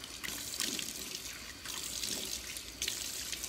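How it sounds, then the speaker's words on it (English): Warm water from a sink tap splashed onto a face by the handful, a few soft wet splashes and trickles close up over a running faucet, with no talking. "I just take a handful of water and splash it on my face"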